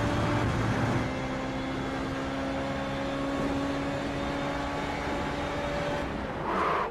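A race car engine drones at steady speed on a Tilkedrome-style circuit in a sim racing game, with a sustained tone that rises in pitch near the end as the car accelerates.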